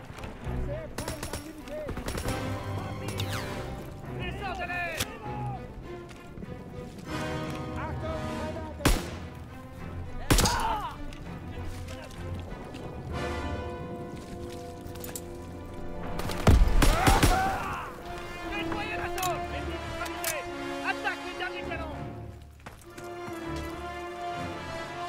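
Gunfire in the Call of Duty WWII video game: sharp shots and rapid bursts crackle over game music and effects while people talk throughout.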